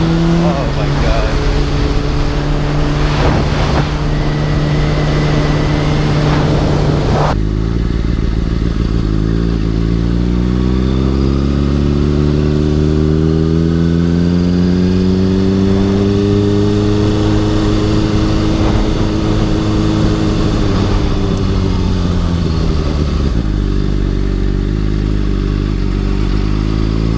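A 2013 Honda CBR600RR sport bike revs and runs at speed, its engine note rising and falling steadily through gear changes under heavy wind rush, loud and close throughout.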